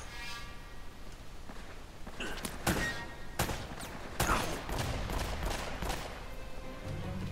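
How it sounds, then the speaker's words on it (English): Rapid gunfire bursts in Uncharted: Drake's Fortune, with several sharp shots and a volley near the middle over a steady background of game ambience. "That's me you're shooting at."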